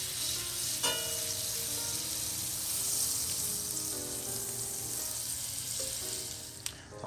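Butter sizzles and crackles steadily in a hot cast iron skillet while a frittata is being cooked, a close, continuous frying hiss with a few light utensil clinks and scrapes.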